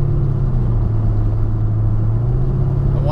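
A modified car exhaust drones steadily while the car drives on winding back roads, a loud, deep, continuous rumble with a constant low hum and no speech.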